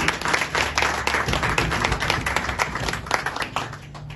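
Audience applauding at a health ministry ceremony installing a new departmental director in Haiti, a steady burst of many hands clapping close by that thins out toward the end.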